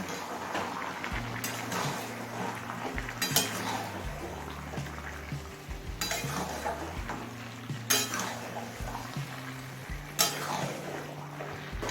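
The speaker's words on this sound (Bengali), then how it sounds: "এবার চিকেনটা একটু নাড়াচাড়া করে নেব" Chicken pieces for chicken kosha are stirred in a covered cooking pot, with a spoon scraping and clanking against metal every couple of seconds over a low, steady tonal background.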